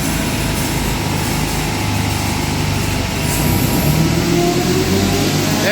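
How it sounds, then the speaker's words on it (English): A supercharged 5SFE engine in a 198k-mile ST204 Toyota Celica with an AMR500 blower runs on a dyno, a loud, steady drone that climbs in pitch and builds toward the end as revs rise. "There's the supercharger."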